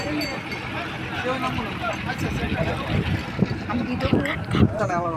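A speedboat on a river at Mawa, its engine and water noise running steadily with wind buffeting the microphone, while people talk nearby throughout.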